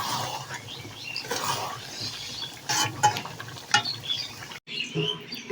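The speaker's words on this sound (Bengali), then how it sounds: "আর 10 মিনিট এরকম করে কষে নিয়ে নামিয়ে নেব।" Biryani masala stir-fried in a pot over a broken stove, with continuous sizzling under repeated scraping strokes, close by and moderately loud.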